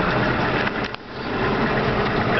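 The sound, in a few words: combine harvester engine put in gear during wheat harvest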